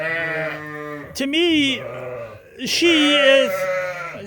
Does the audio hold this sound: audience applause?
no